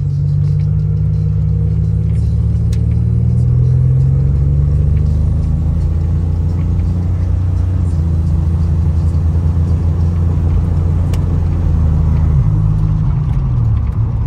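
A car is driven on a road toward the freeway, its engine and tyre rumble loud and steady from inside the cabin with slight shifts in pitch as it moves along.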